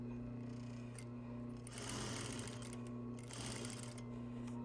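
A sewing machine runs a seam in apparel fabric with a folded edge against the presser foot, whirring steadily and quietly, then rising into two louder bursts of fast stitching.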